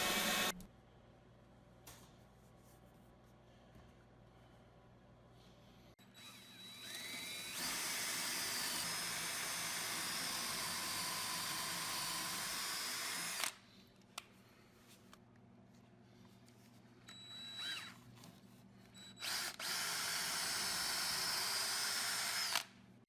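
Power tool cutting 4x4 wooden posts for a garden bench, two long bursts of loud, high whining cut noise separated by quieter pauses with brief intermittent buzzes.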